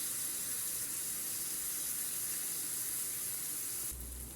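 Onions sauté in a pan, a steady broadband sizzle and hiss that holds at an even level throughout, with no voices over it.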